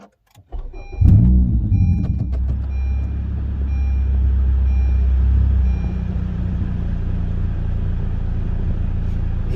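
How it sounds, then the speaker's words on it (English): A K-swapped 2015 Honda Fit cranks and fires up nearby, then settles into a steady, loud idle with a low rumble, and the revs dip slightly after a few seconds. "Alrighty, let's give her a start."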